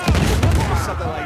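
A grenade detonating in Uncharted 4 multiplayer survival mode, a short loud boom with a second thump shortly after, close and punchy under game noise.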